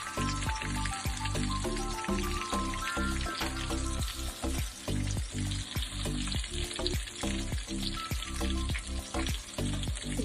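Fish frying in oil on a low flame crackles and sizzles continuously up close, with regular bursts of popping spatter giving a busy, rhythmic texture throughout.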